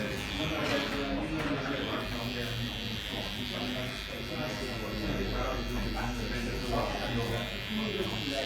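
An electric clipper buzzes steadily close by while cutting hair for a foil fade in a barbershop, with a voice talking faintly over the hum.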